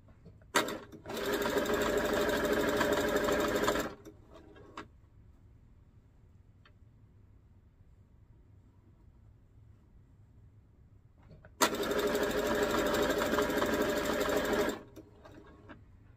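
A sewing machine stitches organza in two loud, steady bursts of close rapid whirring, each about three seconds long, with quiet room tone in the long gap between them.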